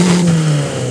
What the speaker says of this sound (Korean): 제가 엔진 소리 한번 들어볼게요.